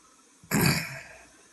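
One short, dry cough from a person, a quick breathy burst that fades within about half a second, faint and close against a quiet background.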